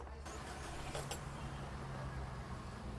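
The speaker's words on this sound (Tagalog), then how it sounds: "So start natin yung makina natin." Minivan engine cranking and catching, settling into a steady low idle rumble, heard close from inside the vehicle with a brief clatter near the start.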